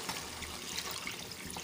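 Water is poured into a pot of simple South Indian rasam, making a faint, continuous trickling and splashing wash with no talk over it.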